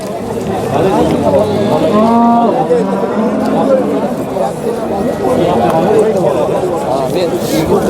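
Cattle at a busy livestock bazaar in Piskent, with a moo rising under steady chatter from the crowd and people talking nearby, all in a noisy open-air market.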